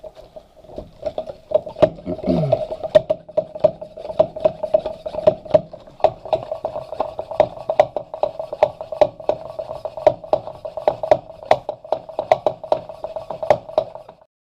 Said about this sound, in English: We're just going to pump it up to about 15 or so.